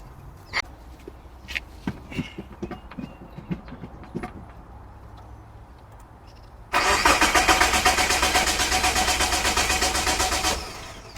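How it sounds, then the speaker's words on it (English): A car with a misfire that smokes heavily is tried repeatedly: scattered footsteps and clicks come first, then a loud sustained engine crank that grinds on evenly for several seconds close by before cutting off. "I kept trying and trying, but with no luck, the car did not want to start"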